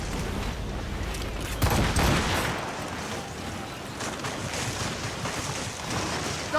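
Ship cannons fire in the video game Assassin's Creed Rogue during a naval battle, with a loud booming broadside around the two-second mark over a constant roar of wind and sea waves.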